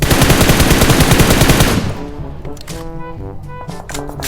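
Rapid automatic gunfire in the PUBG Mobile video game, a dense loud burst of evenly spaced shots that breaks off after about two seconds, followed by a few scattered quieter shots and game sounds.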